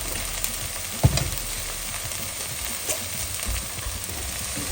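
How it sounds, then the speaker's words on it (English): Spices and salt sizzle and fry in a masala base for a spicy pasta, a steady close crackle with a short louder stir or clatter near the start. "add some spices and flavors in this masala"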